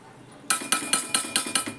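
A mixed vegetable curry stirred in a pan, with a steady series of sharp metallic clinks as a spoon strikes the pan about every quarter second, close and fairly loud.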